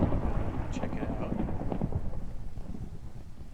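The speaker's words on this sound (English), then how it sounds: "at least we have the sound of rain and thunder now" In Minecraft, rain falls in a dense, continuous patter while low thunder rumbles underneath, and the storm fades slightly toward the end.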